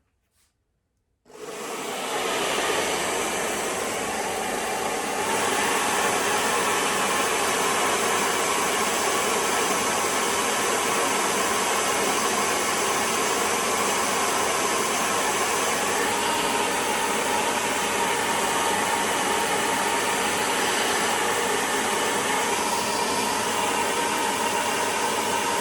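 After a moment of silence, a hair dryer switches on and blows steadily over a wet watercolor painting, a loud, constant airy roar that runs for over twenty seconds without pause or speech.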